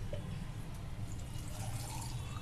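Water pours steadily into a glass pickle jar holding beans for a probiotic pickle, a continuous low splashing fill that stays close and even, with no voices.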